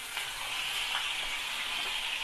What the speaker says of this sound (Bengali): এবার চালটাকেও তেলের মধ্যে দিয়ে হালকা ভেজে নিন।